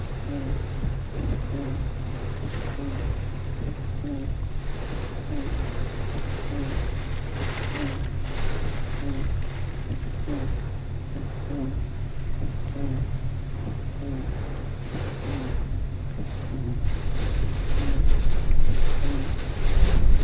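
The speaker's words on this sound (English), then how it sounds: "Like that gust right there" Strong wind gusting during Hurricane Helene, a steady loud roar of air and buffeting with a surge toward the end, no voices.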